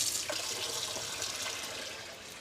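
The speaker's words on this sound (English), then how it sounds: "I gotta get some cold water because I don't want to scramble this egg yolk" Cold water runs steadily from a kitchen tap, a continuous broadband splashing rush into the sink, fairly close and alone without talk.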